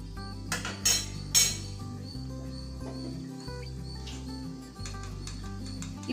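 Salt and jaggery are mixed into tomato rasam in a pot, giving a few clinks of a spoon against metal over a steady low hum, with brief sharp bursts near the start.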